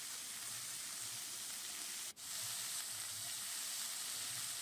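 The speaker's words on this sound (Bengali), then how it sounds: "মাঝারি আঁচে রেখে ভাজতে হবে।" Chopped winter vegetables for veg chowmein frying in a pan over medium heat, giving a steady, close, even sizzle with a brief dip partway through; no one talks.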